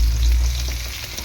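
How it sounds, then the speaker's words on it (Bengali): Mixed vegetables for Bengali shukto frying in oil with dried red chilli tempering, a brief steady hiss of sizzling close by. "তেলের মধ্যে ভালো করে সবজিগুলোকে ভেজে নেব"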